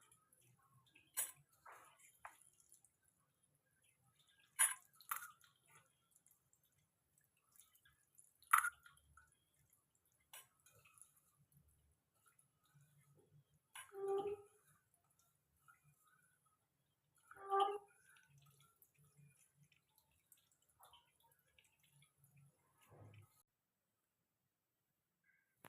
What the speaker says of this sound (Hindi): अब हम सारे मशरूम का पानी स्क्वीज करके इसको एक अलग बोल में रखते जाएंगे।